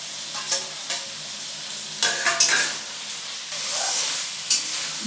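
Fried paneer stirred into a sizzling pan for vegetarian biryani, with a steady close hiss of frying and a few clinks and scrapes of the spoon against the pan.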